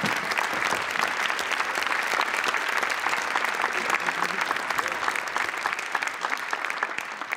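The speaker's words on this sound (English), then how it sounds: "On peut l'applaudir." An audience applauds prize winners at a web conference challenge, with steady, full clapping from a crowd that holds at an even level throughout, no speech.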